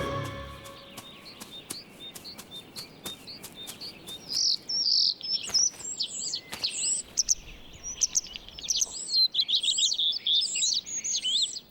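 Many birds chirp and sing in a spring orchard, starlings among them, with sharp repeated calls and busy overlapping twitters close by that grow livelier over time.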